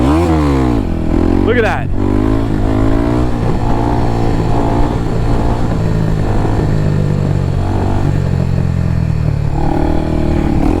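A 300cc motorcycle engine revs as the bike is pulled up into a wheelie, a steady loud drone that climbs and falls, with someone talking over it.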